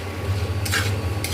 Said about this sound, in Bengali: এটা একটু কিছুক্ষণ নাড়াচাড়া করে নিই।